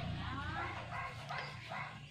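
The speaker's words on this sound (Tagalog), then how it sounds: "meron po kaming aso dito na tagabantay" A guard dog belonging to a neighbour barks and yips at a small house, faint and somewhat distant, with a few short barks heard beneath someone talking.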